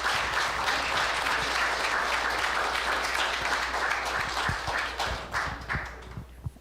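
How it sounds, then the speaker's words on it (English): A city council meeting audience gives a round of applause for the athletes, with dense clapping holding steady for several seconds before thinning into a few scattered claps at the end. "can we just get one more round of applause for"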